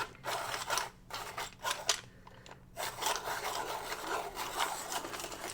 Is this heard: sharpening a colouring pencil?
yes